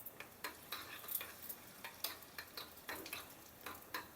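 Raisins frying in a pan after cashews, for semiya sago payasam, give a soft, steady sizzle broken by regular light stirring taps and scrapes, close and quiet.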